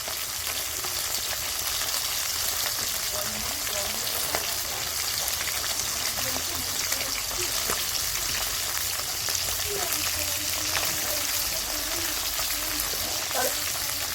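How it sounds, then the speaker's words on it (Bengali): Food frying over a wood fire, a steady broadband sizzle with faint crackles running throughout at close range, continuous and even. "কাঠ এনে দিয়েছে, কাঠ দিয়ে রান্না করছি"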